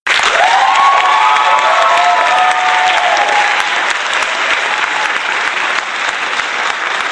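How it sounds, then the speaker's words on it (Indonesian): An audience claps loudly and continuously after a Batak song cover, dense steady applause with some cheering mixed in, close and filling the whole stretch. "berikan tepuk tangan yang meriah buat calon artis ini guys"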